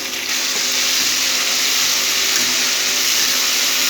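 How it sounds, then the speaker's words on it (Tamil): Fresh coriander leaves fry in hot oil for a Tamil coriander chutney, a steady, loud, close hiss and sizzle that holds evenly throughout without any voices. "இப்போ கொத்தமல்லி இலை அதில் போட்டுக்கலாம் எண்ணெயில் போட்டு நல்லா வறுத்தால் நல்லாயிருக்கும்"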